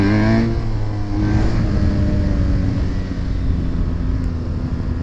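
BMW engine revving in second gear without the clutch, a steady loud tonal drone with harmonics that ease slightly lower after the first half second, sustained throughout.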